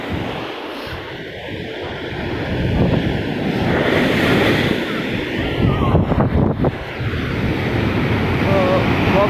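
Sea waves wash onto a sandy beach in a steady, continuous surf roar, with wind buffeting the microphone and a few louder surges partway through.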